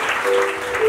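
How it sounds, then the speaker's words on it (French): An audience applauds steadily at a Bible quiz competition ceremony, a dense, even wash of clapping throughout. "Sous vos applaudissements."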